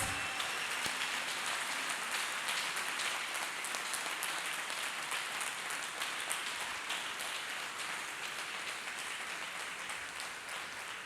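A church congregation clapping hands together in praise, a dense, steady wash of applause that fills the room evenly from start to finish with no voices standing out.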